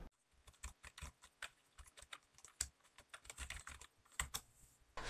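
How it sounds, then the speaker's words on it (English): Quiet, soft clatter of a Corsair K55 Core membrane keyboard being typed on at a steady, irregular pace, with muffled key presses close up and no voices. "This membrane has another benefit, which makes typing incredibly quiet on this keyboard."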